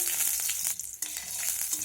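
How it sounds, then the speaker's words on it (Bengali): Chopped garlic frying in hot oil with cumin seeds and dried chili, a steady dense sizzle with crackly high hiss, briefly dipping near the middle as it is stirred, close and alone. "রসুনটাকে ভেজে নেব"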